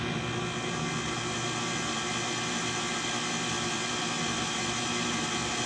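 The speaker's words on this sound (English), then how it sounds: "We're going to start the mixer on low" A stand mixer runs on low while mixing bagel dough, giving a steady, continuous motor whir at even loudness throughout, with no talking.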